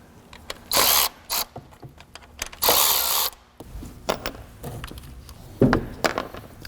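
A ratchet loosens 10mm ignition coil fasteners on a Honda J-series V6, with bursts of rapid clicking and short single clicks between pauses, close and loud, no talk.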